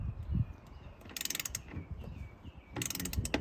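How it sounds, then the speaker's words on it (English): A ratchet with a 1/2-inch deep socket tightening a bolt on a Rev hard roll-up tonneau cover of a Ford Maverick truck bed, two short bursts of rapid clicking with soft handling noises between, close. "So make sure you're using a 1/2-inch socket."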